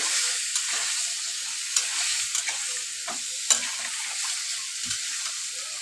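Pumpkin and potato fry in a pan with a continuous sizzle, while occasional utensil taps and scrapes sound as the vegetables are stirred.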